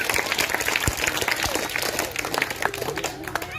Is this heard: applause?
yes